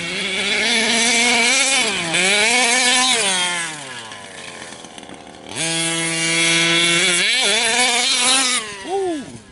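A Losi Five B RC car with an OBR 32cc drag mod reed case engine screams loudly, revving up and down in sweeping pitch climbs and falls, dropping briefly to a lower note before surging again.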